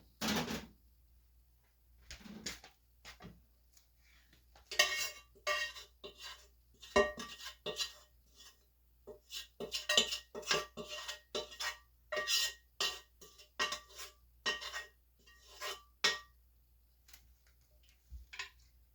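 Cutlery and dishes clatter as a spoon is fetched in a kitchen during sweet pickle making, a run of sharp irregular clinks and knocks, close and fairly loud, with no talking.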